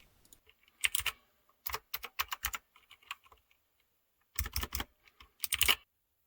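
Typing on a Redragon K585 one-handed RGB gaming keyboard with mechanical blue switches, bursts of crisp clicky keystrokes in quick clusters separated by short pauses, close and fairly quiet.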